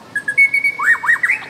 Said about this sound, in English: Oh my god, it's real. It's a real bird.